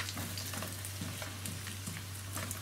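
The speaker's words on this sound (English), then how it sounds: "I want to start scrambling these So we'll move them around the frying pan" Chili eggs scrambling in oil in a frying pan, giving a steady crackling sizzle with soft scraping and stirring strokes throughout, close and fairly loud, with a constant low hum underneath.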